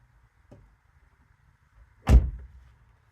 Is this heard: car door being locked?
yes